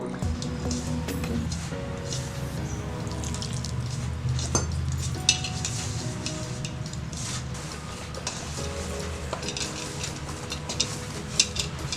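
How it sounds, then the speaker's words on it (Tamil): Butter murukku dough being kneaded by hand after a little water is sprinkled over it, giving soft, steady squishing and wet pressing sounds with occasional light drips, close and continuous throughout. "கொஞ்சமாக தண்ணி ஊற்றி தெளித்து பிணைஞ்சுக்குவோம்."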